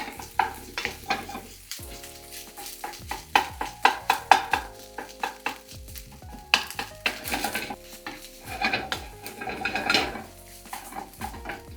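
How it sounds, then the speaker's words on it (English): A wooden spatula chopping scrambled egg into fried rice in a sizzling pan, with repeated close knocks and scrapes against the pan over a steady frying hiss. "I like to kind of chop the egg into the rice here with my wooden spatula, so that it breaks everything apart"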